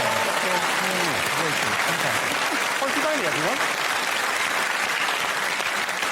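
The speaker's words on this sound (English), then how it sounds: "give her a round of applause" Studio audience applause on a comedy quiz show, loud dense clapping sustained for several seconds, with a voice speaking over it near the start.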